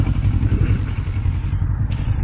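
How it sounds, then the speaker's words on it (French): Motorcycles of a touring riders' group on a road trip toward Georgia through Transylvania pass nearby, a steady loud low engine rumble with no talk over it. "Tiens, là, les motards qui arrivent."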